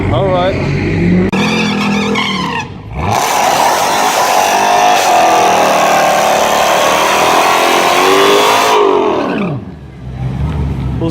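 Cars launch down a dragstrip, a Dodge Hellcat against a Ford Mustang, engines revving and roaring loudly as they accelerate away and fade, with people talking nearby.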